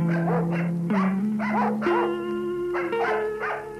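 A dog barks loudly in short, repeated yelps over a sustained droning tone.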